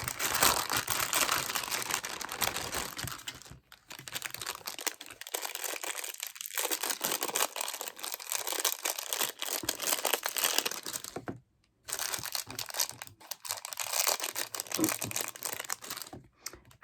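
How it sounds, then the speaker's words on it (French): Cellophane wrapping on a wax-seal kit box crinkles and tears in loud, dense bursts close by, with brief pauses near 3.5 and 11.5 seconds and no voices. "le cellophane ça fait beaucoup de bruit"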